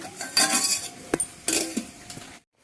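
Cooked rice being served onto a plate in a home kitchen for a meal with fish curry: a few close scraping and clinking strokes of a serving spoon against dishware, then quiet.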